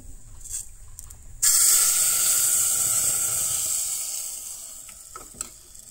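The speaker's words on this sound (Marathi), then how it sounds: "ही पळयात फोडणी. आता ती आमी डाळी ऍड करूया." Spice tempering for a simple spicy dal crackles in a hot pan, erupting suddenly into a loud, dense sizzle that slowly fades, with a few faint clinks near the end.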